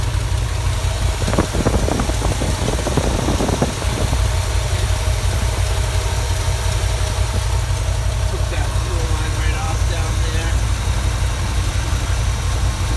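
A GMC truck engine fitted with a Holley 700 carburetor idles steadily and loudly close by, with a brief burst of clanking early on and voices talking over it.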